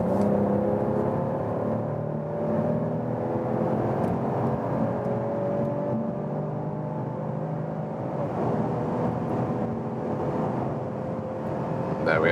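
A 2022 Mercedes CLS 450 facelift in Sport Plus mode pulls hard from about 100 km/h inside a tunnel, its engine note a steady, loud, enclosed drone with rising tonal harmonics and road roar throughout.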